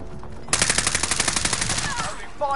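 Rapid automatic gunfire from a video game shootout, a dense burst of evenly spaced shots that starts abruptly and rattles on loudly for about two seconds with faint voices underneath.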